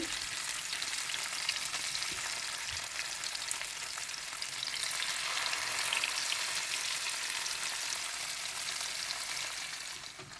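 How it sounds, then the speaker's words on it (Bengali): Puti fish frying in a pan of oil, a steady, dense crackling sizzle that runs evenly throughout with no voices. "এখন হলো মাছগুলো ভেজে নেওয়ার পালা"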